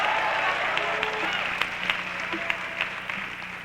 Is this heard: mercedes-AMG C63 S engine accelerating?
no